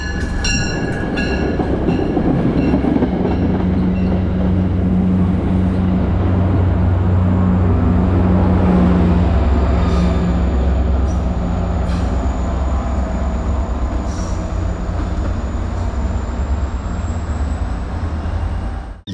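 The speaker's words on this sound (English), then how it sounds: "Metro North Train 6861 departing South Norwalk westbound towards Stamford with a Jeep shoving hard on the rear end" Metro North train 6861 departs South Norwalk westbound toward Stamford with a Jeep locomotive shoving hard on the rear, a loud continuous rumble of engine and rolling wheels with a steady high tone.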